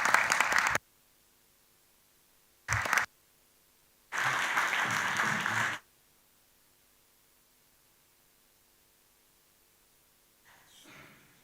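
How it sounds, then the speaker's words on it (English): Audience applause at a joint full council and youth council meeting, heard as short bursts of clapping, with a longer round of a second or two, separated by quiet gaps, moderately loud in a hall. "join me in a round of applause for our young Olympians"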